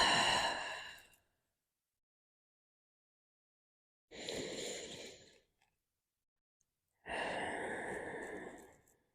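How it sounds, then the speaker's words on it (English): Three slow, deep breaths, each a long audible exhale or sigh lasting about a second, separated by silences, close and clear during a beginner yoga stretch. "So breathe in deeply and exhale."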